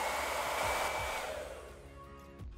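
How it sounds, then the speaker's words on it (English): A hot hair dryer blows a steady, loud rushing stream of air to heat sticky tape residue on paper holiday decorations and cardboard, easing slightly softer toward the end. "Once your blow dryer is hot, I'd say leave it on there for about a good minute to make sure it's really heated up."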